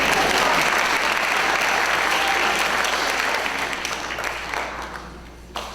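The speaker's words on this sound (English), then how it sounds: "You can clap." An audience at a high school graduation applauds loudly, a dense wash of clapping that gradually thins and fades toward the end.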